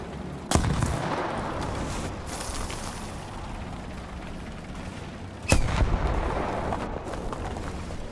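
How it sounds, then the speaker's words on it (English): Artillery shells striking near a BMP-2M light tank in the tank combat game War Thunder, two sharp, loud blasts several seconds apart, each followed by a rumbling tail over steady engine noise. "They fired artillery at me twice now."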